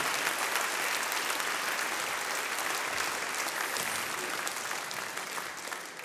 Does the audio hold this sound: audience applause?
yes